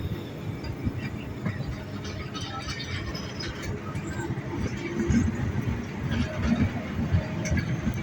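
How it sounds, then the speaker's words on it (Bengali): A train on the tracks rolls slowly with a steady rumble and wheel rattle, close and continuous, and the din swells a little toward the end. "আমরা ট্রেন স্লো করে ফেলছি"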